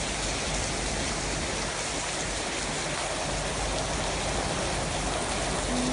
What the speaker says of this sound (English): What spectacular rainfall!